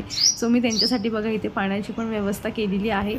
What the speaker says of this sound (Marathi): चिमणीचा आवाज येत होता चिवचिव